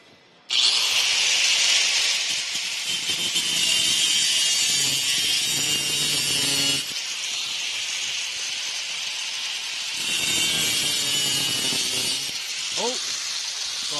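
A loud power tool grinds and cuts metal parts for a motorcycle in a garage, a harsh sustained high-pitched screech that eases slightly halfway through then surges again, with brief voices underneath near the end.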